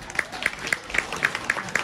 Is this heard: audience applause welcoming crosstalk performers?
yes